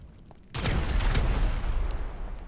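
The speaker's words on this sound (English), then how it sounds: "never look at the explosion" An explosion goes off in the video game GTA Online. A sudden loud blast breaks out of a quiet background, then a dense, rumbling, crackling roar holds for about two seconds and slowly thins. There is no talk.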